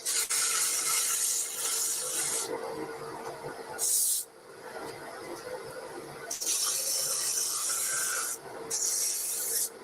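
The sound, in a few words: sanding wood on a lathe with 120 grit sandpaper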